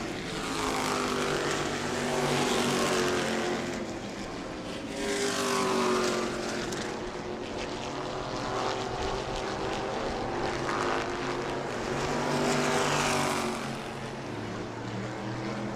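E-mod race cars roar around an oval track during a makeup feature, engines droning continuously and swelling in loud waves as the pack passes, with no talk.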